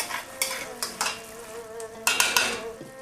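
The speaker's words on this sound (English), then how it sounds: "let's get our beef back into the wok. Mix it up real nice." Beef and tomato stirred in a wok, with a soft sizzle under repeated bright scrapes and clinks of a metal utensil against the pan, coming in irregular bursts.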